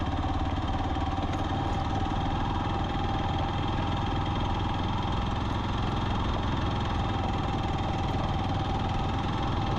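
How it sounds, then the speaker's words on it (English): Hero Xpulse 200 motorbike engine running steadily while riding through a wooded hill area, a continuous loud mid-pitched drone with a light knocking texture throughout. "Since I was riding a motorbike,"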